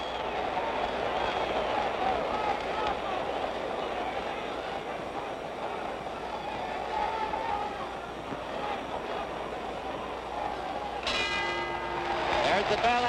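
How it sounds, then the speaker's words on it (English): Under the steady roar of a boxing arena crowd at a Floyd Patterson vs George Chuvalo fight, the ringside bell sounds near the end with sharp, rapid metallic clangs ending round 11, ringing out clearly over the noise. "There's the bell ending round 11."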